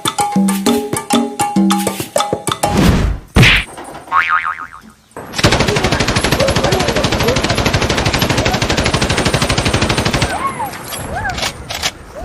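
A comic sound effect plays: first a springy boing with musical tones, then a long, loud, rapid burst of machine-gun fire rattling steadily for several seconds before it cuts off.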